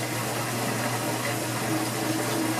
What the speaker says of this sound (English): The drain sounds good.